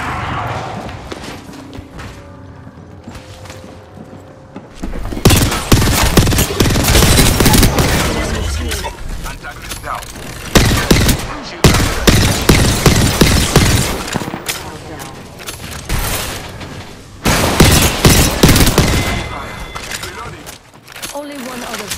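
Rapid automatic gunfire in the shooter Apex Legends rattles in long, loud bursts with short pauses, alongside game voice lines and effects.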